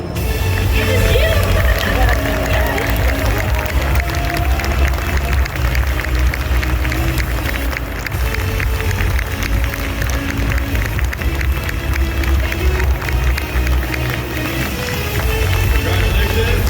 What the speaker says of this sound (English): Big applause for Link Cosplay from Jajo